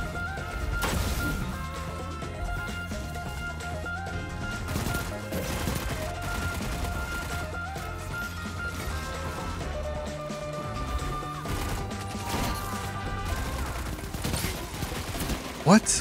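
Shotgun fire in a video game, with repeated sharp blasts and impacts scattered across a busy, continuous soundscape of game effects.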